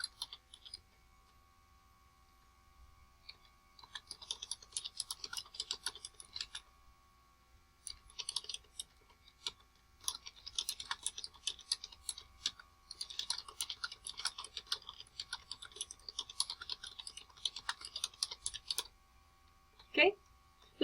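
Typing on a computer keyboard, quick bursts of close, crisp key clicks in uneven runs with short pauses, fairly quiet in an otherwise still room.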